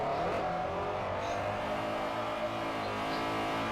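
A car drifting on the Fujimi Kaido mountain course in Forza Motorsport 4, its engine droning at high revs in a steady harmonic whine with tire scrub and slight pitch shifts as it slides, no voices.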